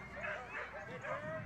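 Alaskan husky sled dogs yip, whine and bark excitedly in falling snow before a race, faint and somewhat distant, with voices mixed in.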